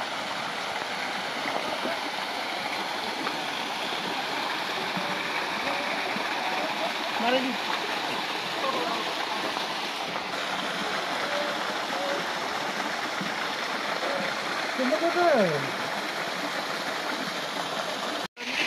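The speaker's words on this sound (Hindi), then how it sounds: "यहीं से जो है दृश्य आपको दिखना शुरू हो गया होगा वाटरफॉल का।" A waterfall near Patna gives a steady broadband rush of falling water at moderate distance, continuous throughout with faint voices occasionally surfacing beneath it.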